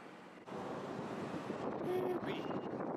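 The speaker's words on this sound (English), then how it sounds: "It's really windy." Strong wind buffets the microphone outdoors near an airport, a steady loud rumbling roar that holds for the whole stretch with faint background noise.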